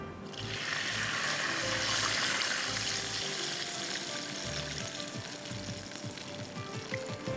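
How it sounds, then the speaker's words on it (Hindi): Milk poured into a hot pan, a steady hissing sizzle and rushing pour that holds for several seconds before easing slightly. "अब हम इसमें दूध ऐड कर देंगे"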